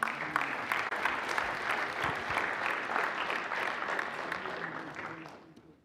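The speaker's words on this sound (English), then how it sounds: "How about a big round of applause for these folks?" Students from a South Side Chicago school get a round of applause at a city council meeting, steady crowd clapping lasting several seconds before fading out, with some voices mixed in.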